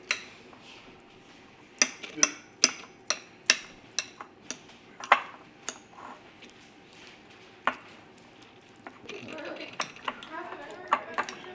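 Utensils scrape and clink against a bowl while egg salad is mixed, a steady series of light taps and knocks followed by softer stirring sounds near the end.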